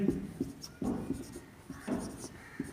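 A pen scratches out a union symbol in a math lesson, with quiet, close strokes in short bursts and small gaps between them.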